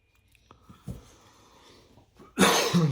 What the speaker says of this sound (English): Sorry, I've developed a bit of a cough.